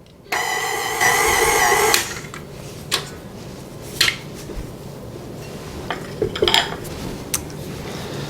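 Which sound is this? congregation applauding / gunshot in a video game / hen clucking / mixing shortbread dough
mixing shortbread dough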